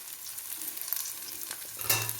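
Dried fish pickle with kanthari chilies frying in a small amount of oil, a steady soft sizzle with occasional stirring scrapes and pops, close and fairly quiet throughout.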